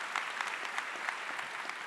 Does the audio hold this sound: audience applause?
yes